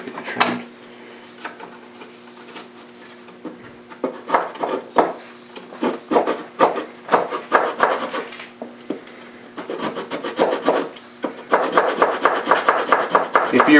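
A wooden kerfed lining on a guitar body being trimmed, giving a run of close, sharp woody knocks and scraping cuts in an uneven rhythm that turns into a denser, faster rasp near the end, with no talking.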